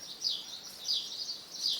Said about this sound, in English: That's the Spanish sparrow. Common in Malta, noisy, active, and easy to observe.